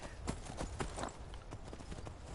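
Steady clip-clopping of a ridden horse's hooves in The Witcher game, a close, rhythmic gait running throughout with no voices.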